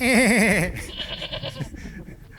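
A goat bleats loudly with a wavering, vibrato call for about half a second, followed by quieter scuffling and faint background noise.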